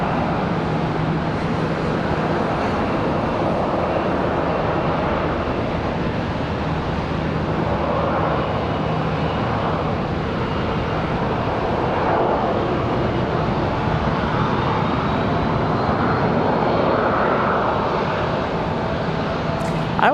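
Boeing 737 and ERJ regional jets taxi toward the runway for departure at Charlotte Douglas International Airport, a steady loud jet-engine roar with broad rumble and hiss that holds constant without breaks.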